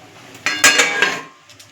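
A metal lid clatters and clinks onto a cooking pot of lightly salted boiling taro stolons, producing a short cluster of ringing metallic knocks close by, then settling quiet.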